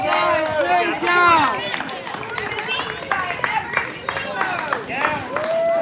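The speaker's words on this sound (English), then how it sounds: "So cool to see people here just cheering everybody on." Spectators cheer, whoop and clap for passing runners at a runDisney full marathon, with bursts of high shouts and scattered applause close by.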